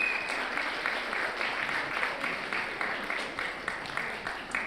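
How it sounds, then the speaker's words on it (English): Audience applause greets returning delegates at a general assembly in Nairobi, a steady mass of clapping that carries evenly through the whole stretch at moderate loudness. "Let's clap for them."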